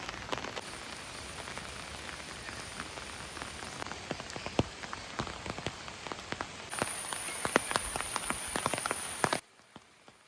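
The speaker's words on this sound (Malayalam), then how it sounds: "അപ്പോൾ വെച്ചാൽ നല്ല മഴയാണ്." Heavy rain pours steadily on surfaces near a temple gateway in Malappuram, with dense patter and sharp individual drips striking close by over roughly nine seconds before the sound suddenly drops away; a faint high insect-like whine runs through it.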